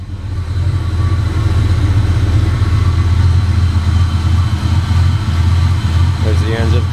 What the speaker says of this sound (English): Idle's pretty loud.